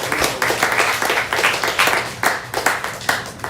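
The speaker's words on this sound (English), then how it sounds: "A big round of applause to all of you" Scattered hand clapping from a small group at a kirtan music event, uneven bursts of claps repeating throughout, fairly close and moderately loud.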